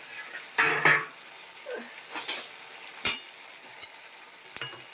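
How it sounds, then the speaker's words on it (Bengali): Small fish sizzling in an open, uncovered pan for a Bengali chorchori, a steady close frying hiss broken by several louder scrapes and clinks of stirring. "আমি এখন এইভাবেই ভাজবো"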